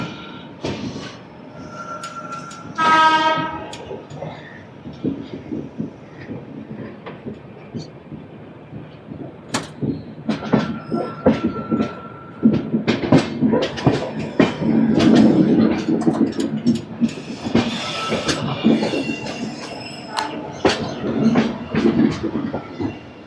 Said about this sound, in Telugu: మన వెనకాతలో ఒక ట్రైన్ కూడా ఉంది, ఫాలో ఆన్ అవుతుంది మనల్ని.